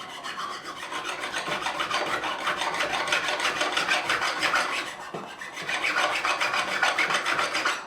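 Rasping strokes of a safe-edge file work the fret ends on a Gretsch G5422 12-string guitar during a refret, a steady run of close scraping passes with a brief pause midway, no talking.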